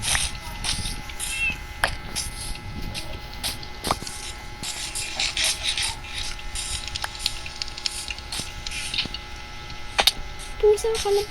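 Cat meows ring out in a survival video game, brief and mixed into a busy layer of game noise and players talking.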